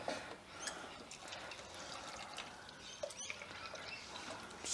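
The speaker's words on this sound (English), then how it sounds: "just a bit of sterilised water coming out of there at the moment" Sterilised water runs from the tap of a four-tap kegerator, a steady close trickle and patter of liquid with small splashes and drips over faint room background.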